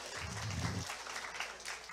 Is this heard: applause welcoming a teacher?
yes